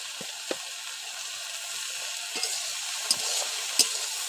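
Potato and eggplant vegetables fry in a pan with salt, giving a steady close hiss of sizzling oil, with a few soft stirring clicks and scrapes.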